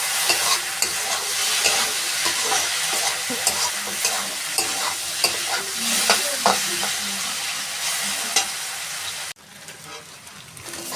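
Potatoes fry in a pan with a loud, continuous sizzle and repeated stirring scrapes, and the sizzle briefly drops off sharply near the end.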